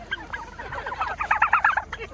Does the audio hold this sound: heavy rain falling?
no